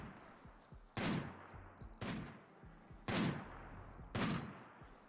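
Automated turrets firing in a video game, with repeated loud bursts roughly every second separated by quieter rattling shots, no talking.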